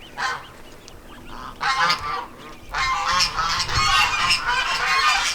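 Geese in a backyard goose pen honk in loud, overlapping bursts, a short call first and then a busier stretch of continuous clamor close by.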